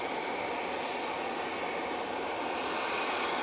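Steady jet engine roar from an Aer Lingus passenger aircraft at Manchester Airport, a loud continuous wash of noise without a break over a few seconds outdoors.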